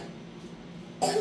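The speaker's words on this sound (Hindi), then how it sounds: "खांसो बेटा, खांसो।" A child's cough, a brief burst at the very end after a stretch of quiet room noise, close and fairly loud.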